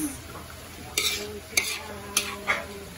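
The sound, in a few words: stirring food in a large wok (kawali)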